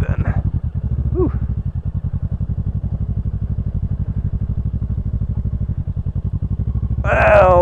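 Motorcycle ridden slowly through sand along the California coast, its engine chugging in a steady close-up rhythm throughout, rising slightly at the end with a brief burst of wind noise.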